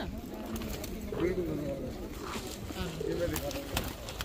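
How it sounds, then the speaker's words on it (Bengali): Pigeons cooing in soft, low repeated phrases, with birds calling around them and a steady background murmur of voices. "সব জায়গায় এই ধরনের কবুতর আছে।"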